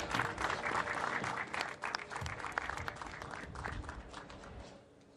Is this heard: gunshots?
no